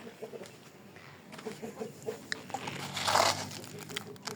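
Young chicks feeding on mixed grain, soft clucks and peeps scattered over a quiet background with occasional pecking, while a person talks nearby.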